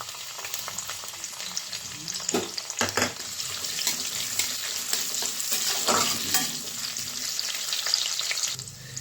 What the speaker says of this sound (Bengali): ঘিটা গরম হয়ে গেছে, ড্রাই ফ্রুটগুলো ভেজে নেব প্রথমে।